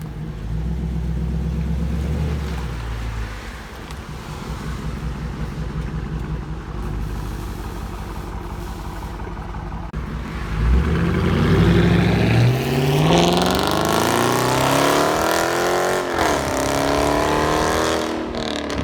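A 2019 Dodge Charger with a HEMI engine and muffler-delete dual exhaust rumbling loudly at close range, idling deep before rising into aggressive revs and a throaty roar.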